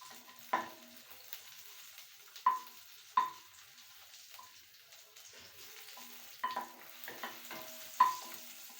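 Oil sizzles softly in a pan for an onion and tomato chutney, with a low steady frying hiss broken by several sharp utensil clinks and stirring scrapes.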